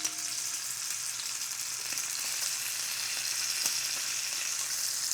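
Pheasant ballotine searing in a hot pan, giving a steady, dense sizzle and crackle close up that holds evenly without a pause for about five seconds.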